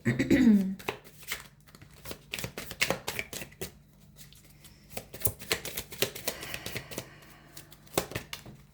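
Tarot cards being shuffled by hand in quick, papery riffling bursts with short pauses between, close and fairly soft, with a brief spoken word at the start.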